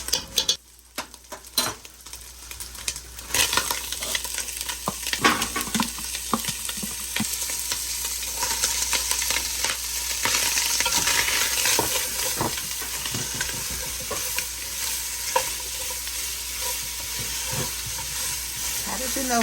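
Tomato paste and vegetables frying and sizzling in a soup pot, a steady hiss with frequent clinks and scrapes of a stirring utensil against the pot, close and fairly quiet, with no talking.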